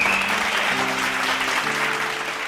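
A congregation applauds steadily at a Bible study gathering, a dense wash of clapping that holds for a couple of seconds while faint tonal sounds hum underneath.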